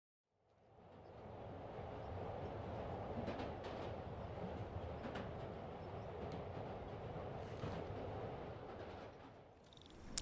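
A New York subway train in the Spider-Man PS4 video game rushes along during fast travel, giving a steady loud rumble and rattle of wagons that runs the whole time with no talk.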